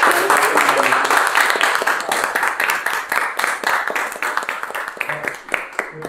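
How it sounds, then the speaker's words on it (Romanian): An audience at a piano recital applauds the pianist, a dense, sustained clapping that gradually thins out, with a voice speaking over it. "O vreau o mică rundă de aplauze și pentru pianista noastră"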